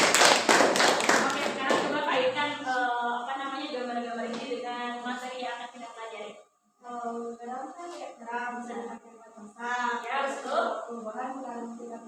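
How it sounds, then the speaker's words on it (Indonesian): Classroom students give a short burst of clapping for a classmate, crisp and close, which fades within a couple of seconds into a teacher talking at length. "kasih tepuk tangan dulu buat sih"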